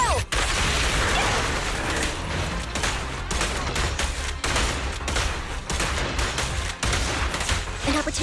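Rapid gunfire bursts from a Zenless Zone Zero battle, dense fusillade with clattering machine-gun volleys and booms, loud and continuous with brief gaps, with faint voices mixed in.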